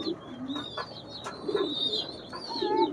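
Racing pigeons coo repeatedly at close range, low throaty calls recurring through the stretch alongside faint higher chirps from other birds.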